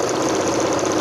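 A sewing machine stitching a salwar, a fast steady mechanical whir with a rapid even rhythm, close and continuous for about a second without any voices.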